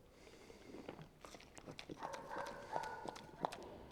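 A mustang mare shifts about on her feet with irregular hoof clops and thuds close by, mixed with snorting breaths and a few squeaky bursts, no one speaking.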